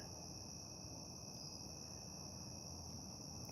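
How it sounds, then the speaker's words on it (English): Crickets chirp at night in a steady, continuous high-pitched trill, faint and distant, with no other sounds. "I hear the traffic on I-49, and I hear crickets."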